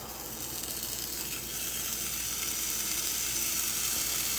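Spinach and cream cheese ham roll-ups brown in a hot skillet, a steady broad sizzle and hiss that holds even and close throughout, slightly louder toward the end, with no voices.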